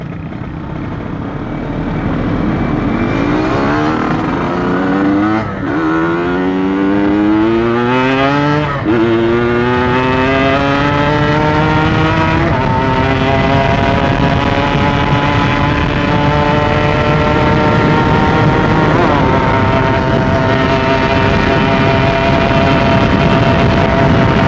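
Motorcycle engine revving hard while stopped at a red light, a loud, steady drone whose pitch climbs through several rising sweeps, close and continuous with no talking.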